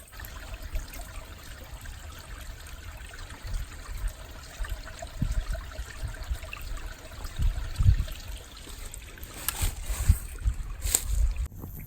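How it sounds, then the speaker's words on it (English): Water scooped from a stream while backpacking: soft trickling and gurgling close by, with splashes and scooping sounds growing busier toward the end. "So I'll scoop up some water and then filter it"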